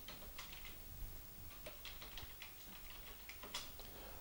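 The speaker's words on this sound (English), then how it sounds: "for that we first need to type in this command" A command typed on the keyboard of a Galaksija Plus home computer: faint, rapid clicking keystrokes in an irregular rhythm over a steady low background hiss, close but quiet, with no voice.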